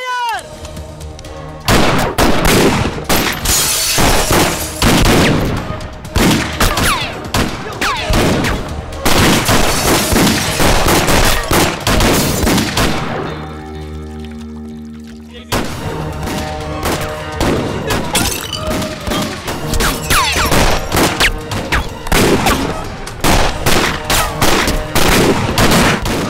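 Heavy gunfire in a Hindi comedy film scene, dense continuous volleys of automatic shots and booms over about twenty-five seconds, loud and close, with a brief lull midway.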